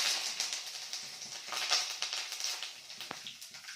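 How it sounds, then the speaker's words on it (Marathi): Curry leaves go into hot oil with mustard seeds and cumin, giving a loud, bright, continuous sizzle with crackling pops that eases off slightly toward the end. "आता कढीपत्ता टाकायचा"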